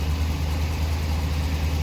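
A stalled van, nicknamed Johnny and suspected of a faulty alternator, idles with a steady low rumble, close and continuous with no voices.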